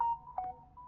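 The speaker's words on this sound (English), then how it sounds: "my phone is going crazy" A mobile phone sounds a short burst of electronic notification tones, a steady beeping pitch with a brief jump in the middle, fairly close and clear with no talking over it.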